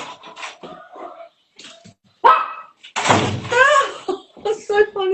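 A household dog barks a few sharp times amid several dogs and chickens, mixed with a door-like bang and close, lively talking.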